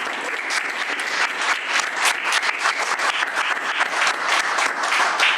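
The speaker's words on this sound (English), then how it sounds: "Let's give her another round of applause." Steady, dense applause from an audience at a book talk event on religion, loud and sustained throughout with no speech over it.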